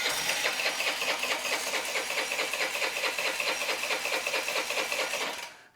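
A Honda Elite 80 scooter on a bench with a no-start fault, its engine cranking steadily with a rapid, even churning rhythm for several seconds before it stops, close and loud with no talk.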